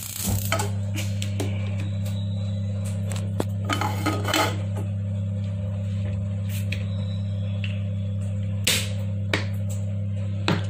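A metal pan set down and shifted on a stovetop while making spicy chutney, giving a few clanks and scrapes over a steady low hum, close and moderately loud.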